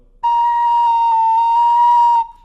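A tin whistle sounds a single loud, pure cross-fingered note, held steadily for about two seconds with only slight wavers before it stops cleanly.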